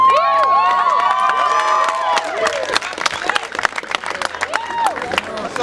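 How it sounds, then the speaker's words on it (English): A protest crowd at a Garfield school rally cheers and applauds. Loud whoops and shouting open the moment, then dense clapping takes over, with voices mixed in close to the microphone. "We should all applaud and raise our fists for the people of Garfield"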